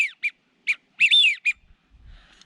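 A handheld duck whistle blown to mimic a wigeon's call, sounding as a series of short, bright whistled notes followed by a longer warbling burst, close and loud with no talking.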